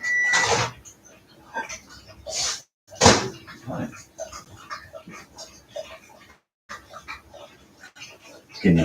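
A big dog makes a few short noises and huffs at close range amid scattered knocks and handling sounds, with occasional gaps of silence.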